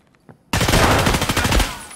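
Loud, close automatic gunfire from the video game Escape From Tarkov erupts suddenly after a near-silent moment and keeps up as a rapid rattling burst of shots, with no talking.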